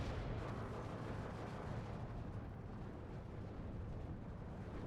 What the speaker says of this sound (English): And now my artillery is also starting to shoot down.